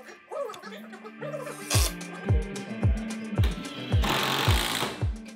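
Power drill driving screws into pre-drilled, countersunk MDF boxes for a built-in bunk bed frame, a series of short loud whirring bursts in a steady rhythm, roughly eight pulses, with a person chuckling early on.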